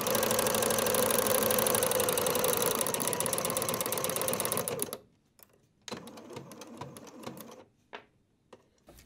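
A sewing machine fitted with a flower stitch foot runs in a fast, even mechanical chatter for about five seconds, then stops, followed by a few short bursts and clicks.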